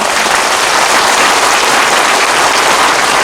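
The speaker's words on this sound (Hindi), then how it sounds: "प्लीज इनके लिए बहुत बड़ा ताली दीजिए।" An audience at a public speech event breaks into loud, dense, sustained applause that fills the whole stretch without a pause and with no voices over it.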